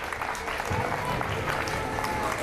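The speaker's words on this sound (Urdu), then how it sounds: "آپ اپنے لیے بھی تالیاں بجائیں اور ان اساتذہ کرام کے لیے بھی تالیاں بجائیں" An audience at a school annual day event applauds, a dense continuous wash of clapping filling the room at steady loudness.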